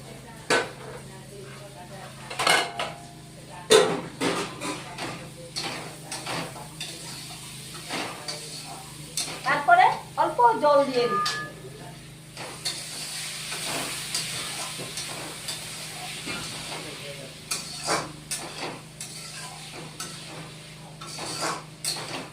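Sliced bitter gourd fries and is stirred in a pan with salt, with faint sizzling under repeated clinks and scrapes of a utensil against the pan, louder around the middle.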